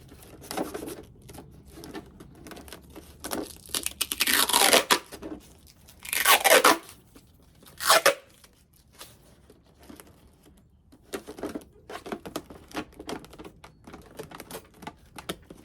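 Packing tape is torn and pressed on to seal a recycled container during winter sowing, with a few loud ripping pulls among quieter crinkles and taps.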